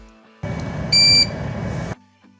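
UPS battery backup unit sounding its warning on power loss: a loud, steady electronic beep of about a third of a second over a close hum, starting and stopping abruptly, with no one talking.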